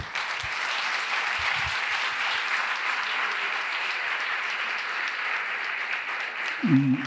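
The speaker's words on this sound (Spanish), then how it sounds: "Con un fuerte aplauso recibimos a don Antonio Sastre." An audience at a family gathering talk gives a long, steady round of applause to welcome a speaker, dense clapping that holds evenly for several seconds before tapering off.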